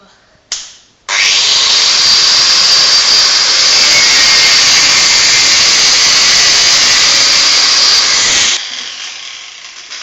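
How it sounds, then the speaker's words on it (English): A power tool cuts a hole in the plastic bumper cover of a 2010 Mercedes E220 Convertible W207 during towbar fitting: a brief blip, then a loud, steady, high-pitched grinding whine that runs about seven seconds before cutting off. "now we're just going to cut a hole in the bumper cover"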